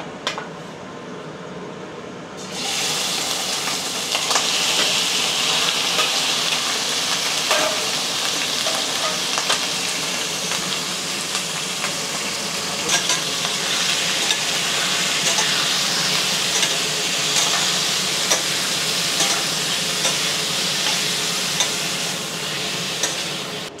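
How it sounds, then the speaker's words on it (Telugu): Chicken pieces seasoned with salt and pepper fry in very hot oil for noodles and Chinese gravy, a loud, dense sizzle that bursts in after a brief quiet start and crackles steadily throughout. "I'm going to put chicken in this and add some salt and pepper"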